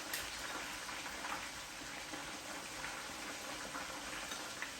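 Chicken party wings frying in a Power XL cooker, a steady dense bubbling sizzle with faint crackles throughout, at a low level with no talk.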